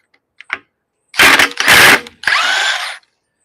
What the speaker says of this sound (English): I will not be putting them back on with this gun. This is just to spin them off.